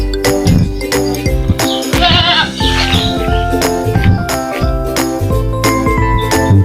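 A herd of goats on a spacious 19-hectare farm bleats repeatedly, several overlapping calls sounding close and loud over a steady background, with no talking.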